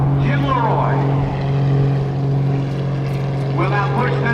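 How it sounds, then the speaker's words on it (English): A 1940s biplane hanging on its propeller at the NAS Oceana airshow, with a loud, steady droning engine and prop roar whose pitch sweeps up and down, while an announcer talks over it. "This little biplane designed in the 1940s is being turned into a helicopter."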